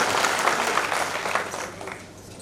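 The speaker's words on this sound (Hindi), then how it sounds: "जोरदार तालियों के साथ में स्वागत करें, अभिनंदन करें।" A burst of crowd applause, dense clapping that fades slightly toward the end, with no speech over it, at a foundation-stone ceremony for new construction at a Mahadev temple.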